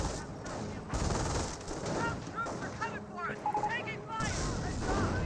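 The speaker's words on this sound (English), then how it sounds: "we do have a mortar emplacement, now firing away against these Wagons." A mortar emplacement in the Company of Heroes strategy game fires on wagons amid a busy battlefield, with booming shots and scattered gunfire mixed with distant voices and other combat noise.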